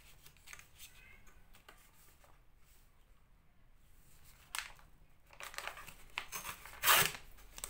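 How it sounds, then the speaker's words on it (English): Paper torn off by hand for a junk journal envelope: a quiet rustle builds into a short, sharp rip near the end, close and alone without speech. "And then I'm just gonna tear it off."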